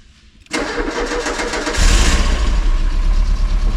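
A Renault 19 16V, rescued after sitting unused for many years at a farmhouse, cranks briefly and catches, then runs with a loud, rough, rising roar up close, with no talking.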